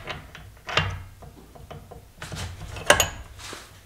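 Quarter-inch end mill slid into a machine collet: a series of small metallic clicks and taps, with a sharper clink near the end, close and fairly quiet.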